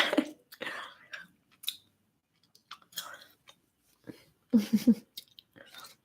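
Gum chewing close to the mic, wet smacking and crunchy bites in irregular bursts, with soft whispery breaths between them and long quiet gaps.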